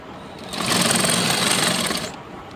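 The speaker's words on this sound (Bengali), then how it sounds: "এ পাশে আমি আরো সেলাই করে দেবো" Sewing machine runs a short burst of fast stitching on a salwar design, whirring steadily for about a second and a half before stopping, close up.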